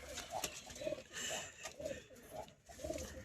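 Pigeons kept by a high-flyer breeder coo in a short repeated series of soft, low throaty calls, close by, with faint background noise between them.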